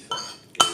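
Metal cutlery clinks against a plate during a meal, two close, bright strikes about half a second apart, the second one louder, in a quiet room.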